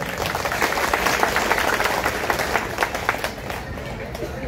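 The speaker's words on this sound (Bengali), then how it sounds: "তার জন্য আজমান সুজনের জন্য বড় করে একটা হাত তালি দিতে হবে" Broadband crackle of an audience clapping at a political rally in Bangladesh, dense and steady throughout, with sharper individual claps standing out near the end.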